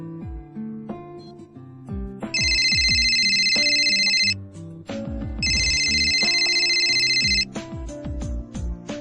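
A phone ringtone plays a bright, looping electronic melody, with a sustained chiming ring sounding twice over the tune.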